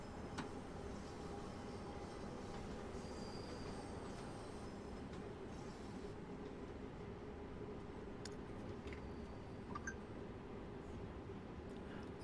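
A light engine runs through the Train Sim World 2 rail network with a steady, low rumble and faint track clatter. Now and then a soft squeal or click sounds above the even drone.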